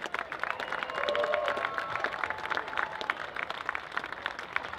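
Crowd applause at an NRA-presented 1000-man shooting world-record event, steady dense clapping sustained throughout, fairly near and moderately loud, with a faint tonal hum underneath.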